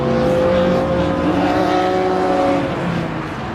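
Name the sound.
Nissan Skyline race car driving past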